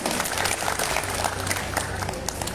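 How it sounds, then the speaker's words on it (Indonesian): Applause from a student audience at a school election debate for candidate pairs, a brief burst of many hands clapping at steady volume, with some voices mixed in beneath it. "Kita berikan tepuk tangan yang meriah untuk kedua paslon."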